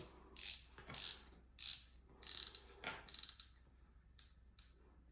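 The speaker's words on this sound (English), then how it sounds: "let me just crank it all the way up" Vision fly reel drag knob cranked all the way up, giving a series of close, quiet ratcheting clicks in short repeated bursts separated by brief gaps.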